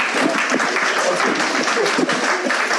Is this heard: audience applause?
yes